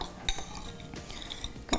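Chicken being mixed with salt and pepper in a bowl, giving a few sharp clinks and scrapes of utensil against the dish over quiet, close-up stirring.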